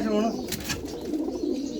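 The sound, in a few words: pigeon cooing while being handled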